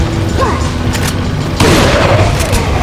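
Loud gunshot blasts in the video game Resident Evil 4 sit in a dense game mix with mechanical clatter, and a sharp louder hit lands midway.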